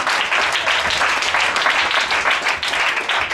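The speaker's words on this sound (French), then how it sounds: "Acclamez." Church congregation at a religious gathering applauds steadily, dense continuous clapping that stays loud and even throughout with no talking heard.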